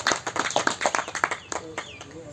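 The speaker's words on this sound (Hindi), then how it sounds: "इचाक के प्रखंड प्रभारी जी के लिए एक बार जोर से ताली बजाइए" A crowd at a Patanjali yoga officials' gathering claps for the Ichak block in-charge, giving a run of distinct, fairly rhythmic hand claps that thin out toward the end, with a voice speaking over them.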